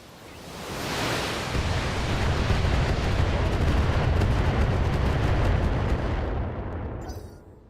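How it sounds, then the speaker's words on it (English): Weapons fire in a video game aimed at a Gauss turret during a base assault: a continuous roaring barrage that swells in and holds loudly for several seconds, then fades at the end, with no voices. "we're gonna fire everything I've got at this Gauss turret"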